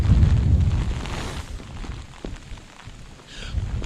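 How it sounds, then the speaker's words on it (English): Storm wind and heavy rain outdoors, heard as a loud buffeting rumble of wind gusts over a steady hiss of falling rain, easing slightly midway then building again, with no speech. "the wind is picking up and the rain is coming down even heavier"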